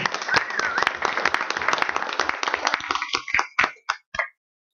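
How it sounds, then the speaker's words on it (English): A round of applause at a Town of Minto council meeting: a steady wash of clapping from a small room that thins into a few scattered, separate claps before stopping. "So I'll give him a round of applause."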